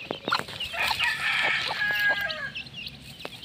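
Young chicks being fed in a small backyard poultry coop chirp and peep in a busy, overlapping chorus, close and continuous, with occasional clucks mixed in.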